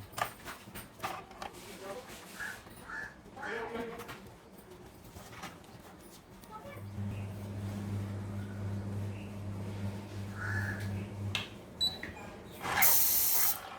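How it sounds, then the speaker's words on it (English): An automatic room freshener filled with body spray and powered by a mobile adapter releases one short hiss of spray near the end, after a stretch of talk and a steady low hum. "It sprays after every 10 minutes"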